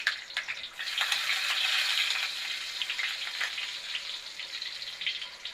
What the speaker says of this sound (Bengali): রসুনগুলো একটুখানি ভেজে যাক, ভাজা ভাজা হয়ে গেলে একটু ব্রাউন হয়ে যাবে